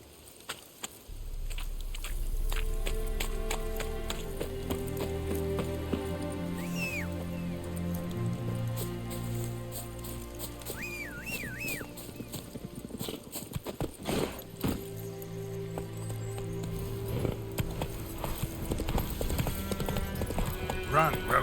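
Roach the horse gallops in The Witcher 3: Wild Hunt on PS4, with a steady run of hoofbeats pounding over a sustained musical bed and ambient game sound.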